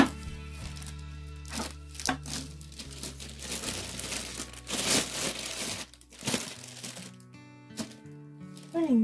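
A plastic bag crinkles and rustles continuously at close range while a Spellbinders Platinum die cutting machine is unpacked from its box, with bursts of crackling, tearing and handling noise.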